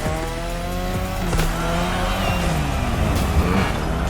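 A car drifting around a drift track in The Crew Motorfest, its engine revving loudly and steadily while tires squeal through the slide, with a couple of sharp knocks partway through.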